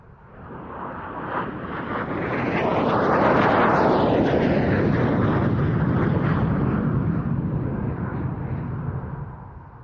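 An English Electric Canberra jet flies past at an airshow, a roar that swells from faint to loud and broad, peaks as the aircraft passes, then stays heavy and slowly fades over several seconds.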